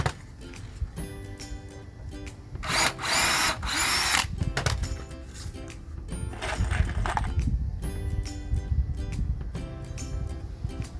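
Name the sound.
power drill drilling a hole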